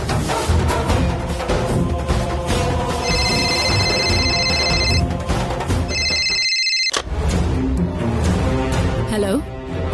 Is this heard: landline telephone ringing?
yes